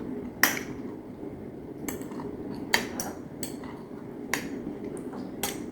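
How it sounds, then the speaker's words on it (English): A utensil scrapes and clinks against a glass jar while sauerkraut is mixed, with several sharp, separate taps at irregular intervals over a soft, steady background. "I'm just going to kind of mix this kraut up a little bit in the jar"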